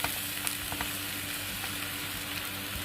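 Puffed rice being stirred into a hot, frying seasoning mixture in a pan for Kurnool-style uggani bajji, giving a steady, close sizzle with light scraping and rustling of the stirred grains.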